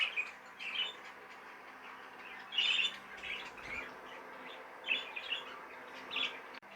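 Several small budgerigars chirp and chatter in short bursts over a faint steady hum, the calls bright and close, with brief quiet gaps between.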